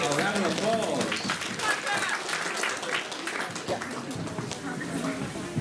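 Audience applause at a comic con cosplay contest in Cleethorpes, a steady wash of clapping from a crowd sustained for several seconds with voices mixed in.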